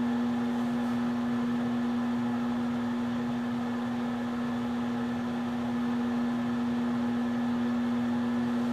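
A microwave oven runs steadily with a strong constant hum and fan-like whir, unbroken for the whole stretch, close and moderately loud, with no talking.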